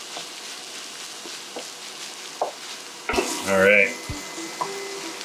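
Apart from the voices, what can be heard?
beef browning in a pan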